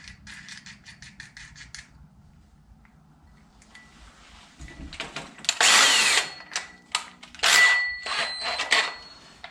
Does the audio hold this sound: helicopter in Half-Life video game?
no